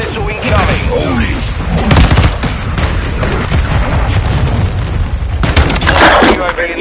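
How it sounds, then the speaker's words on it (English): An incoming cruise missile strike in Call of Duty: Modern Warfare II multiplayer lands as loud, heavy booms and bursts of gunfire over a dense, noisy battlefield, with game voice callouts mixed in. "Hostile cruise missile incoming."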